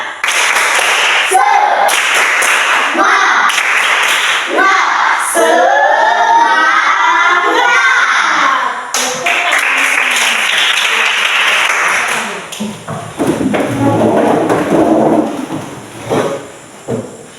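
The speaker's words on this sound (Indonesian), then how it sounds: "Tepuk semangat 3 ya" An elementary class performs the rhythmic 'tepuk semangat' clapping chant, bursts of patterned claps alternating with children's chanted voices, loud and close, before the room settles and a teacher speaks.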